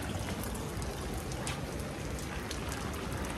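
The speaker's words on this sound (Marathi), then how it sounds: "पाऊस लागते" Monsoon rain pouring steadily, a dense, even hiss of drops hitting surfaces close by with no pause, no voices over it.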